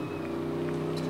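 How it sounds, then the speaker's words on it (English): A Corvette accelerates down the drag strip at a spectator drag event at Rockford Speedway, its engine a steady, loud, droning roar that holds without a break for about a second. "Look at that Corvette fly."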